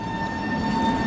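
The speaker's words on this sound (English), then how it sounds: "That will always be the sound of the Prague tram network for me. T3P thyristors." A Tatra T3P tram with thyristor control passes on a Prague street, giving a steady electric hum with a high, sustained tonal whine over low rumbling running noise, close and continuous.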